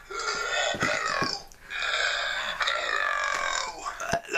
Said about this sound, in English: For example, I can burp.